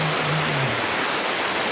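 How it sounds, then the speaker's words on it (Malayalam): Heavy afternoon rain falls steadily, a loud, even, unbroken hiss filling the whole moment with no talking. "ഇപ്പോൾ എന്താ അറിയില്ല, നല്ല മഴ."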